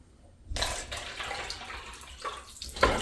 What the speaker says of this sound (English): Alright, here is one more flush.